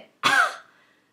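A single sharp cough, close and fairly loud, with a short trailing breath as it fades into quiet.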